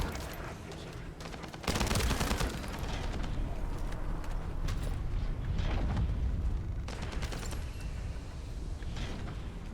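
Gunfire in the shooter video game The First Descendant: after a quieter opening, dense rapid automatic fire and mechanical clatter run continuously.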